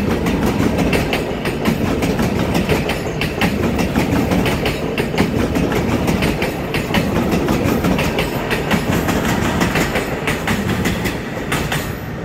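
A ten-car EMU900 commuter train passes on the rails, a loud, continuous rumble with steady clickety-clack wheel beats throughout and no voices.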